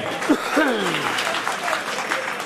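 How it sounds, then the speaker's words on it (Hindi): A church congregation claps together at a Christmas celebration, a steady wash of applause with voices rising briefly over it. "आप आनंदित हैं तो प्रभु के लिए जोरदार ताली बजाएंगे।"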